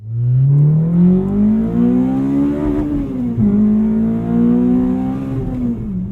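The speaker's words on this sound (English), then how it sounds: "Honda Civic Si, FG2 and FA5" Honda Civic Si (FG2/FA5) engine revving loudly and alone, pitch climbing steadily, dipping briefly near the middle, then climbing and holding high through the rest.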